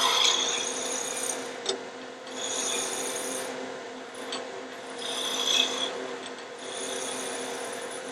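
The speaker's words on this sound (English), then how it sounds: "I'm doing some really great sweep cuts with this roughing gouge." A roughing gouge makes sweep cuts on wood, giving a steady, fairly quiet rasping scrape that swells and fades in long passes. No one speaks over it.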